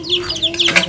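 A chicken clucks in a short burst of several quick, close, fairly loud notes, with a faint steady hum underneath.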